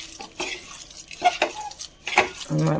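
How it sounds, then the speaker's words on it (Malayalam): Onion, ginger and curry leaves are mixed by hand with coconut oil for a snakehead fish curry, making soft, close squelching and rustling bursts with brief wet scrapes. "അതൊന്ന് നല്ലോണം കൈ കൊണ്ടൊന്ന് തിരിഞ്ഞ് കൊടുക്കും"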